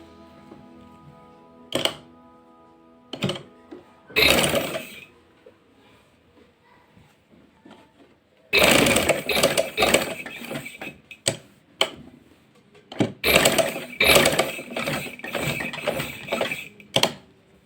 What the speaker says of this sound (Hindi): अब मैं आपको इस गले की सिलाई लगाना बताऊंगी।